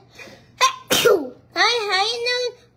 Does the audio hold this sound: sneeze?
yes